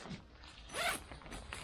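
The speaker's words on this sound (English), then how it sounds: "the zippers, they will get skagged every now and then in these" YKK zipper on a Snugpak Special Forces bivvi bag, pulled in one quick close zip with a rising rasp, plus small fabric rustles before and after.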